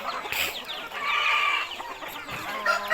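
Chickens cluck and squawk close by, a few short calls and one drawn-out cackle, with no talk.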